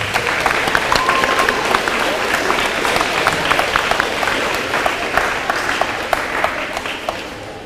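Audience applause at a school awards ceremony for grades 5 to 7, steady dense clapping throughout with crisp individual claps standing out and a faint voice underneath.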